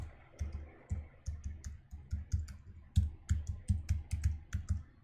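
Rapid, close clicking of keys on a computer keyboard while a SQL query is typed, a steady stream of keystrokes with brief pauses, alone without talk.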